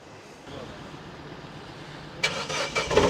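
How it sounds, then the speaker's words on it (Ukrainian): A car engine cranks and catches near the end, a burst of rough mechanical noise rising out of a quiet, low rumble. "Зараз ми її заведемо, послухаємо як працює, як заводиться."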